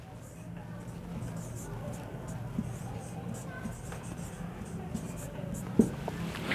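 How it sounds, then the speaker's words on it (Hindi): Pen or chalk writing during an anthropology lecture on descent rules, a faint, steady scratching close by with an occasional tap, under a quiet room background. "लिख देते हैं दोस्तों"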